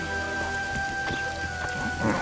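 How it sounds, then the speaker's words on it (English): Steady rain falls in the video game The Witcher 2: Assassins of Kings, with scattered droplet splashes, a continuous hiss that stays even throughout, with a faint low rumble underneath. "It's raining."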